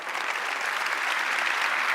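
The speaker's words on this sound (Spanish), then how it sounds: "Fuerte el aplauso." A large congregation at a sermon claps in thick, continuous applause, an even roar of many hands with no pauses and no voices over it.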